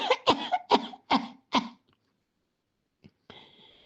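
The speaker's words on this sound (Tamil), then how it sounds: "எனக்கு இருமல் தாங்கவே முடியலைங்க" A person coughs five times in a rapid, harsh, close burst, followed by silence and a faint trailing noise.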